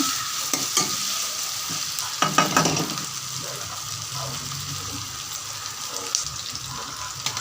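Ginger garlic paste sautés in a pan over a medium flame, a steady close sizzle with a few soft stirring scrapes throughout and no talking.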